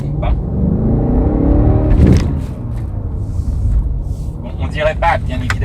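Steady low engine rumble from a BMW XM with a 653 hp powertrain, heard from inside the cabin, swelling briefly around the two-second mark before settling, with faint talk over it.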